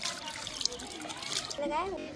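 Water gushes steadily from a push tap with a continuous splashing hiss, and a voice briefly sounds toward the end.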